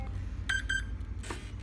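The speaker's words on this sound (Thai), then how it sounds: "รอ2ปี๊บแล้วดึงลง" Mikado Vbar Control flybarless unit for a model helicopter gives two short electronic beeps, then a fainter third tone, over a low steady hum and no talk.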